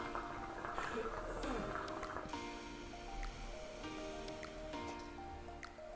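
A Moze Varity hookah gives off wet, sloshing bubbles as it purges upward around the bowl, churning continuously at moderate loudness with scattered sharper drips and splashes.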